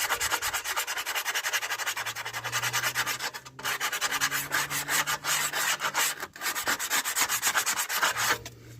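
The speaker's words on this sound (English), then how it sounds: "give them a good scuff over to get rid of the shine" Rover 75 brake shoes are scuffed with abrasive paper to remove their glazed shine, making continuous harsh rapid sanding strokes close up, with short pauses and no talking.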